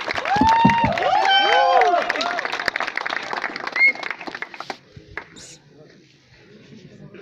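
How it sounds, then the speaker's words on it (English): Loud crowd applause mixed with shouts and cheering at the Mumbai launch of the 2017 KTM Duke 390 motorcycle, strongest at first, then thinning out and fading to scattered noise over the last few seconds. "one round of applause for the new KTM."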